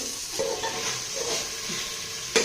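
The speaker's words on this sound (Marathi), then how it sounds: "या फोडणीमध्ये आपण जी तुरीची डाळ भिजवून घेतलेली आहे ती यामध्ये टाकायची आहे" Soaked toor dal tipped into a sizzling tomato-onion tempering for Maharashtrian amti, giving a soft steady fry hiss with stirring scrapes and a sharp burst of sizzle near the end, no talk.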